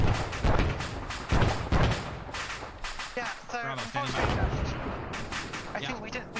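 Secondary explosions from a destroyed ammunition cache in a combined-arms military video game ring out as repeated booming blasts and thumps, loud and close, with people talking over them.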